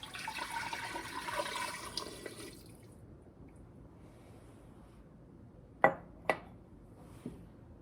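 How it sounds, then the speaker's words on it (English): Cold water poured over chicken bones in a stock pot gives a soft, splashing rush for a couple of seconds, then stops, leaving a few faint, separate drips in a quiet room. "We're going to cover them with cold water."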